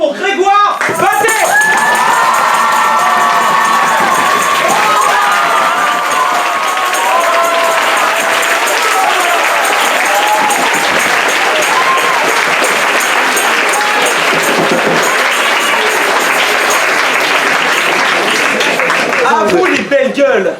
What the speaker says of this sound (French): je vais vous demander de faire un tonnerre d'applaudissements pour Grégoire Batet.